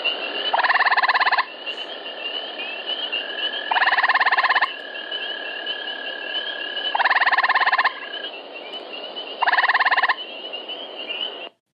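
Four short, loud frog trills in a steady series, each a buzzy pulsed call lasting about a second, separated by quieter pauses over a faint background hum.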